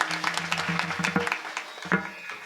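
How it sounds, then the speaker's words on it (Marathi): An audience at a Datta Jayanti kirtan claps for the Maharaj, with sharp, uneven handclaps over a sustained tonal drone or voice in the background that fade toward the end. "त्यांच्यासाठी जोरात टाळी वाजवायची सगळ्यांना."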